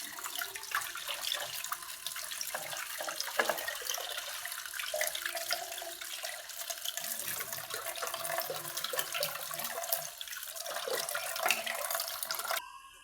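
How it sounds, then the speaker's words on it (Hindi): Lemongrass kahwa being washed under a running kitchen tap, a continuous close splashing water stream with rinsing rustles throughout, steady and moderately loud, with no talking. "सबसे पहले मैं ले लूँगी लेमन ग्रास कहवे को और इसको वॉश कर लूँगी अच्छी तरह।"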